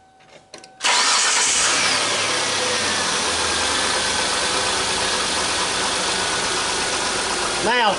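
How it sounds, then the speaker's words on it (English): A 2008 Kia Sportage 4x4 engine cranks briefly and starts, then settles into a loud, steady idle in park that continues close by for the rest of the clip. "Start it at temperature, let it sit there and idle in park"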